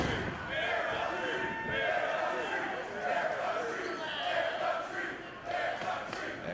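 Wrestling crowd roaring inside a packed arena during a Battleground Championship Wrestling show, a dense, loud wall of cheers and shouts that swells in waves, with a commentator's voice running over it.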